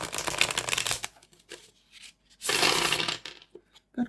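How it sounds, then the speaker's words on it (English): A linen-finish tarot card deck is shuffled in two crisp, close riffling bursts, separated by a quieter stretch of light card handling and soft clicks. "I'll quickly show you how it shuffles."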